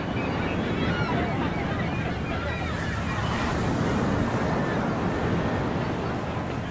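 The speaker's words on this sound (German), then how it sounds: "weil der Wind hier da Theater macht" Wind roars steadily across the Bandon Dunes links course in an EA Sports golf game. The gusty rushing is loud and constant throughout.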